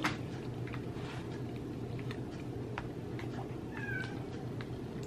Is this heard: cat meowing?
yes